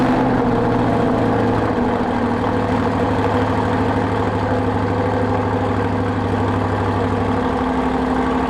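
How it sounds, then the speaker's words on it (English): Close and loud, a C8 Corvette with an AWE exhaust system runs after a cold start, settling into a steady deep idle rumble with no talking. "you got a little taste of the sound of that exhaust with that cold start"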